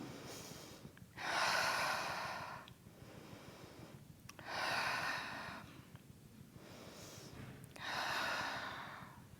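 Slow, audible nasal breathing during a seated Pilates hip-and-lower-back stretch at a desk. Three long inhale-exhale cycles at an even pace, close and fairly quiet, with no talking.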